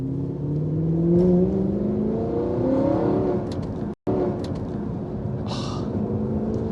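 An Audi R8 with a V8 and manual gearbox drives along, its engine and exhaust giving a steady, loud rumble that rises and falls with throttle, the tone climbing as it revs, with one brief dropout near the middle.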